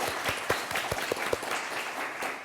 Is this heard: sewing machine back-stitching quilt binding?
no